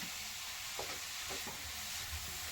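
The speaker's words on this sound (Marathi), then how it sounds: "त्याला मस्त असं परतून घेत राहायचं नारळ असल्यामुळे त्याला करपाची भीती असते" Grated coconut stirred and roasted in a pan for coconut peda, with repeated scraping strokes of the spoon over a continuous soft sizzle and no voices.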